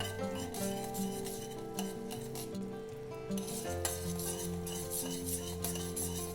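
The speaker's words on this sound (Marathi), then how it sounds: "तोपर्यंत आपण हे असं ढवळत राहणार आहोत" Spoon stirring dissolving sugar syrup in a pan on the stove while making sugar gathi garlands for Gudi Padwa, a steady soft scraping and faint bubbling with occasional light clinks, heard over constant tonal background sound.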